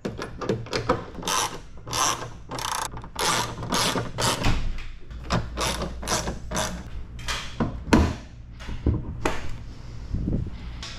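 Hand ratchet snugging hood bolts on a Porsche Panamera during a carbon fiber hood fitting, rapid close clicking bursts repeating in runs with brief pauses and a few heavier knocks.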